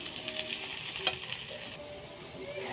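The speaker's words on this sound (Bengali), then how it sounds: "নাড়াচাড়া করবো, তাহলে আমার ভাত ভাজা রেডি হয়ে যাবে।" Fried rice seasoned with sugar and salt is stirred in a pan: soft, faint scrapes and clicks of the spatula over a gentle sizzle, heard close with no talking.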